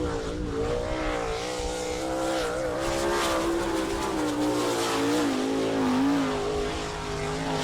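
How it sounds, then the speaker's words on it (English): A sprint car racing a qualifying lap at the All Star Circuit of Champions in Attica, Ohio: a steady, loud, high-revving engine drone with rising and falling pitch that holds throughout, with no talk. "Your next qualifier drives the Franklin Power Products sponsored car number 4K from Bloomington, Indiana, Kelly Kinzer."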